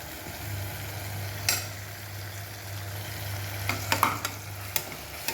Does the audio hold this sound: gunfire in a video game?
no